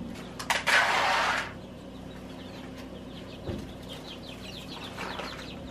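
A small backyard flock of young chickens, four Black Copper Marans and one olive egger, heard outdoors. A short burst of wing flapping comes first, then faint scattered clucks and chirps at a distance.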